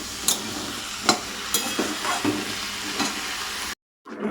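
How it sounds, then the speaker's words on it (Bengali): Potatoes and pointed gourd fry in a pan with a steady, close sizzle, broken by several sharp spatula stirs and scrapes, then a brief drop to silence near the end. "একটু ভাজতে দিয়েছি আলু পটলটা"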